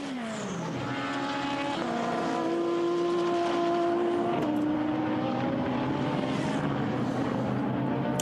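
GT race cars lap Silverstone during a 2013 Blancpain Endurance Series round, their engines howling loudly and continuously with the pitch rising and dropping through gear changes as the cars pass close by.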